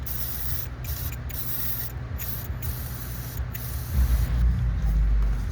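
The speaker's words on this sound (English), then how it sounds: "Taking our contact cleaner." Contact cleaner sprayed from an aerosol can onto a GM Gen 5 V8 truck wiring terminal: a steady close hiss, with short pauses where the spray stops, and a heavier low rumble near the end.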